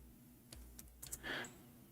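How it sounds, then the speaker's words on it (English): A few quick, faint clicks of typing on a computer keyboard, irregular taps over a quiet background within two seconds. "We are typing in English letters."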